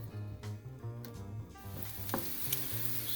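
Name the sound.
thinly sliced shallots sizzling in a pan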